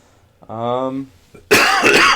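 A man gives a short voiced throat clearing, a buzzy rasp lasting about half a second, then a louder harsh burst of coughing and clearing follows, close to the microphone.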